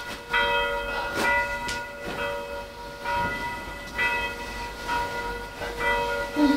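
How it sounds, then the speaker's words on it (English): Church bells ring out in Prague, with repeated rich tolling strikes carrying over a steady background hum, several overlapping peals sounding at moderate distance. "Even the church bells was perfect"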